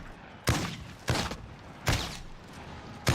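Four separate, punchy gunshots from hip fire while strafing in Call of Duty, spaced unevenly about half a second to a second apart, loud against a low game background with no talk.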